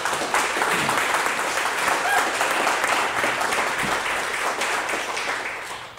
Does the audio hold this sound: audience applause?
yes